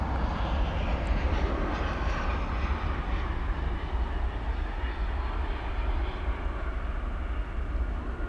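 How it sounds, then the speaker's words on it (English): Airbus A321 airliner landing at Dallas Fort Worth Airport at night, a steady broad roar of engine and rushing air that holds loud and constant throughout, no voices over it. "It'll be an Airbus A321, which is about to land right now"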